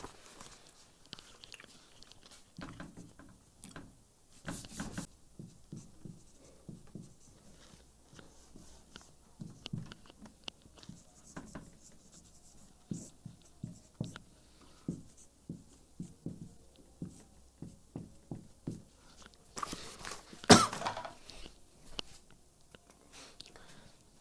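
Someone writes a question on a classroom board, a quiet run of short scratchy strokes and taps in an uneven rhythm, with a couple of louder knocks and no talking.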